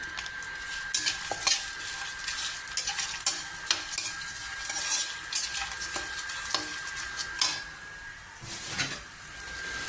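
Dry roasted peanuts rattle and scrape in a pan as they are stirred, with a faint sizzle and irregular clinks throughout, no voices.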